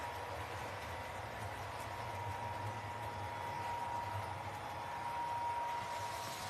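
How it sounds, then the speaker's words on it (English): A model train runs along its track in a steady, faint rumble through a switch and around a corner, with no talk. "because there's another train coming around the corner right here"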